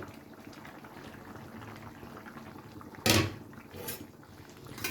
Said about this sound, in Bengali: 2 থেকে 3 মিনিট আমি খুব ভালো করে ঝোলটাকে ফুটিয়ে নিয়েছি।